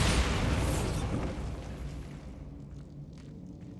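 A Bombarda blasting spell goes off in Hogwarts Legacy: one loud, close boom that starts with a sharp broadband burst and then fades into a rumbling tail over several seconds, with no talking.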